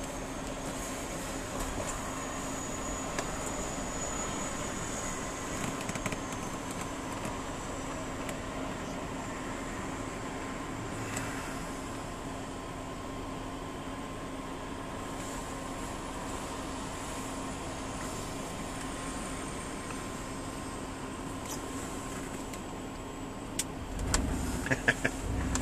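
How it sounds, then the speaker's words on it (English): Diesel trucks pass along a road in a continuous, even rumble with a steady engine drone, heard from inside a vehicle, with no talking. "since there's diesel trucks coming."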